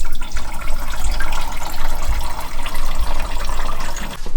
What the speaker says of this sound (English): Started to drain the coolant and made a huge mess.